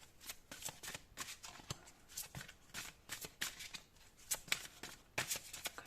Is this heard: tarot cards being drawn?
yes